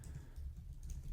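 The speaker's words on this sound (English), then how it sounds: "Notice as I'm typing, words are being suggested on the left" Someone types on a computer keyboard in a quiet room, with soft, closely spaced key clicks at low volume and a slightly louder tap at the end.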